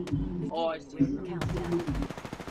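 Bursts of M63 gunfire in a squad-based shooter game, rapid automatic fire cutting in partway through and continuing as a rattling stream, with a player speaking over the opening.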